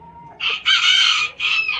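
A young bantam rooster at a poultry breeding farm crows close and loud, a short raspy crow in bursts lasting under two seconds.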